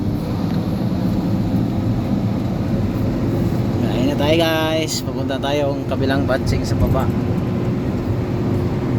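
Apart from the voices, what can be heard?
cement mixer truck engine running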